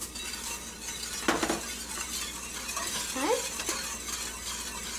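Grated garlic is stirred into melting butter in a pan, with soft scraping, a light sizzle and a couple of spoon clinks against the pan, heard close up.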